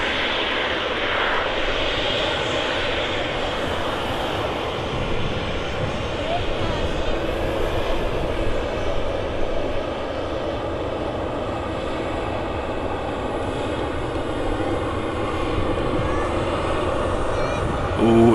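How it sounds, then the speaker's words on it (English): A Ryanair airliner departs from Manchester Airport, its jet engines producing a loud, continuous broadband roar that holds steady for the whole stretch. "Here we go, the Ryanair."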